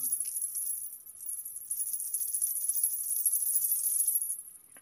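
Silver ghungroo payal anklet with many small bells, shaken so it gives a steady bright jingling shimmer throughout, fairly close, with no talking.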